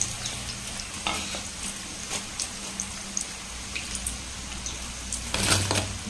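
Potato masala samosas frying in maida pastry in oil over a low flame, a steady soft sizzle with scattered crackles and occasional stirring clinks.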